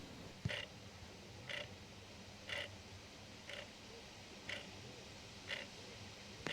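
A mechanical clock inside a Mercedes 450 SLC ticks once per second, each tick crisp and faint against a quiet cabin hush, seven beats in an even, unhurried rhythm.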